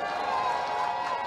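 Outdoor crowd at a Yeongdeungpo election campaign rally for Kim Min-seok applauding and cheering, a dense steady wash of clapping and voices with no pauses.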